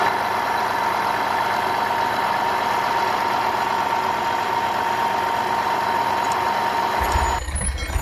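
A heavy diesel log loader tractor engine idles steadily with a low, knocking drone, loud and close, shifting near the end as a deeper rumble cuts in.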